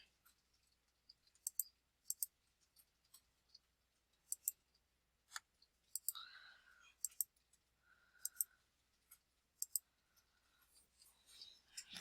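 Faint, sharp mouse clicks are heard on a chart menu, scattered singly and in quick pairs across a quiet background, with soft rustling in between.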